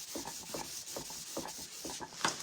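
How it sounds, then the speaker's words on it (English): Dry high-grit sandpaper is rubbed over a wooden craft piece in steady back-and-forth strokes, about two per second, giving a close, scratchy rasp with no talking. "So we've got our high grit sandpaper. I've got it dry. I'm just going to come through and sand it."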